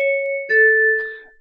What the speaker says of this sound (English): Here's a three-tone gong.